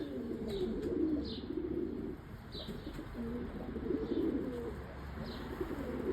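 Pigeons coo in a coop in low, soft, repeated phrases, with faint higher chirps from other birds layered above a steady background.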